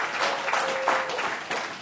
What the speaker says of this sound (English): So let's clap for true parents.